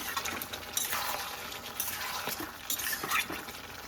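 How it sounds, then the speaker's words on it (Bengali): A spoon stirs papaya curry with ghee and garam masala in a pan, giving close, steady scraping and clinking against the metal over a faint sizzle. "নেড়ে দিয়ে দিলাম"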